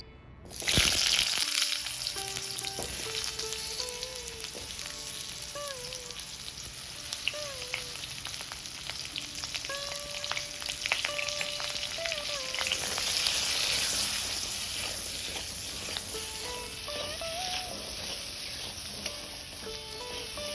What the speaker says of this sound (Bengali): এরপর আলুটা ভেজে নেবো